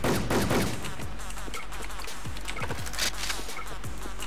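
An M500 fires in a video game, and a burst of rapid shots opens the sequence. After that come sparse, scattered gunfire and impact sounds over a constant low game background, with no talking.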